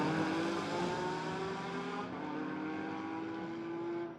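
Supercars on the Vila Real street circuit in Portugal roar loudly and close, engines droning steadily under braking and throttle as the cars move through a corner, with no voices.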